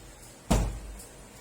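A house door shut firmly at home, one solid thud with a short low rumble that fades, followed by quiet room tone.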